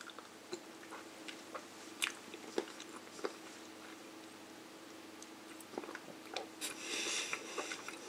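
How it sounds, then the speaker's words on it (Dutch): Crisp, close bites and crunchy chewing of a Magnum chocolate ice cream bar, with a shell cracking in sharp snaps amid steady mastication and a louder crunchy burst near the end. "Oké, nog één proefje. Nog één hapje."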